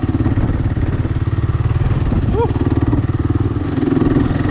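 A motorcycle engine chugs steadily throughout, a close, rhythmic low rumble with a brief whine partway through, as the bike rides toward the mountains near Vacaville, California.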